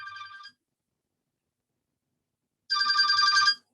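A telephone rings indoors in two bursts: a brief ring, a pause of about two seconds, then a longer, louder ring, clear and close with no talking.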